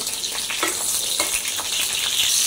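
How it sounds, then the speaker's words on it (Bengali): Chilies frying in hot oil for a vegetable mash, a steady close sizzle with occasional stirring scrapes and small pops, no voices. "ভর্তার জন্য হচ্ছে আগেই মরিচটা তেলে ভাজা নিতেছি।"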